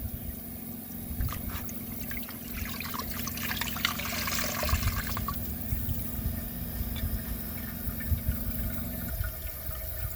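A 1987 Kilgore Aladdin toilet flushes with a rushing, gurgling swirl of water that swells midway and then settles into a steady trickle as the tank refills, close and moderately loud.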